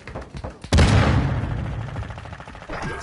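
Sharp gunfire in an online shooter: a few faint distant shots, then one loud close blast that booms and trails off in a long rumbling echo, with a softer shot near the end.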